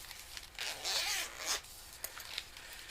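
Scissors cutting through large decorative craft paper from a 12 by 12 pad, a few close crisp snipping and rustling strokes in quick succession, with no talk.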